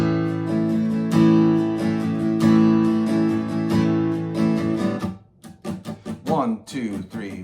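An acoustic guitar strums chords in a steady 3/4 down-down-up-down-up pattern, close and clear, with sustained ringing strokes that thin out into lighter, sparser strums toward the end.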